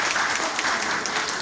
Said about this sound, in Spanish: fuerte los aplausos, que ellos nos escuchen